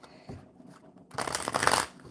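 Tarot deck shuffled by hand, a short soft rustle followed by a fuller, louder riffle lasting under a second, close and with no talk.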